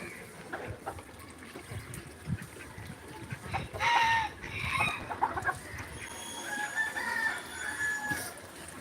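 Chickens clucking and calling close by, with a rooster-like cry rising in the middle, over quiet farmyard background.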